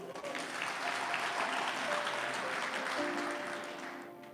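Audience applause at a German-language talk, dense steady clapping from a crowd that holds strong for about four seconds and then fades slightly, no speech over it.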